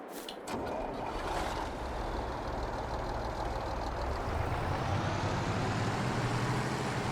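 A truck in Farming Simulator 22 rumbles along after a brief start, its engine a dense, steady drone that builds slightly and holds, loud and close with no talk.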